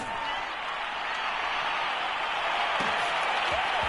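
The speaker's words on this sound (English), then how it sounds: "How about some applause for the defense there?" Crowd applause in an American football video game, a steady, dense wash of clapping and crowd noise throughout at an even level.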